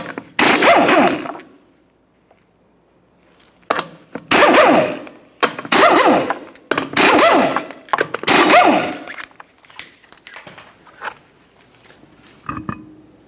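Bursts of an impact wrench loosen the five 19mm lug nuts on the front wheel of a 2006-2011 Honda Civic, loud close rattling runs of about a second each separated by quiet pauses, with small clinks between.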